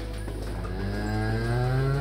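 Dairy cows on a farm lowing in a sustained, rising moo that swells louder toward the end, heard alone with no talk.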